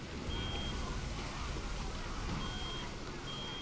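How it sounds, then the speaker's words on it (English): An alarm howls through a shaking machine in the game Reverse1999, a loud, steady wash of noise with faint repeating high tones that runs unbroken for several seconds. "What's that sound? Some kind of alarm?"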